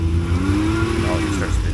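A 2023 Can-Am Outlander ATV engine revs hard on a trail as its wheels spin for grip, a close, strained, wavering engine note over which people talk.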